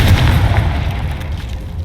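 Explosion spells cast in the video game Hogwarts Legacy, a loud deep boom at the start that rumbles and fades over the next second or two, without talk.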